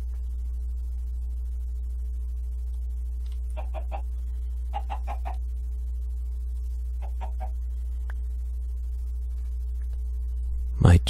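In the video game Minecraft, chickens give several short bursts of soft clucks at irregular intervals over a constant low hum, fairly faint and with no voices.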